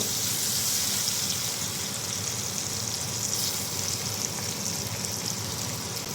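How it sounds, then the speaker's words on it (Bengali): Onions sizzle lightly in a pan as the base for a hilsa fish and greens dish, a steady, even frying hiss that carries through with no talk over it. "আমি একটু পেঁয়াজটা হালকা কষাই নেব"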